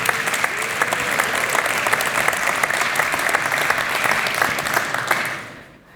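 Applause from a tech conference audience, dense and steady for about five seconds before fading out at the end, with no voices over it.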